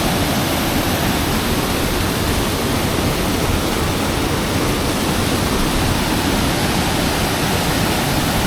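A forest waterfall in Barito Utara, Central Kalimantan, roars as a loud, constant wash of falling water with no breaks.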